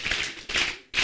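Audience applause for students, three short bursts of tapping claps, close and fairly loud, with no talk over them.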